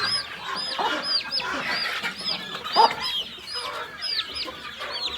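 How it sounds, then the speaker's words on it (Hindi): A hen clucks repeatedly in short, overlapping bursts, with her chicks peeping brightly throughout and a busy village farmyard feel. "हमारी मुर्गी आ गई है और चूज़े भी उसके साथ ही हैं"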